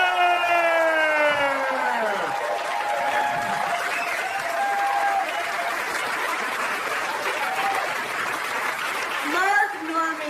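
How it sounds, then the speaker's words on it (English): A comedy club audience claps and cheers loudly and steadily for a stand-up comedian, with whooping and a rising shriek-like cheer near the start and again at the end. "Put your hands together for Amy Schumer!"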